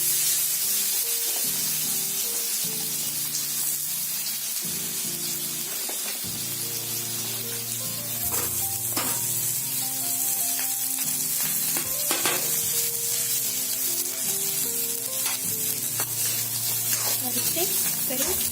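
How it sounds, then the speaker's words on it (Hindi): Grated radish frying in hot oil over lowered heat after a cumin tempering, giving a dense, even sizzle with occasional stirring clicks under continuous background music. "अब हम गैस का आंच थोड़ा कम कर देंगे और मूली डाल देंगे धीरे धीरे"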